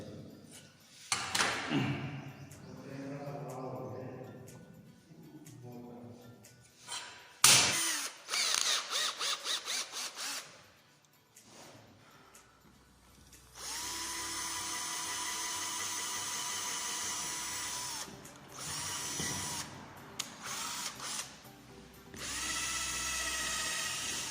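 A power drill bores holes for shelf screws in a workshop, with several short whirring bursts and then longer sustained drilling runs, some stopping and starting, alongside handling clatter and brief pauses.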